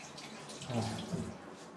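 Tap water runs over a raw chicken breast being washed in a kitchen sink, a soft splashing stream that swells briefly in the middle, faint and close, with no talking.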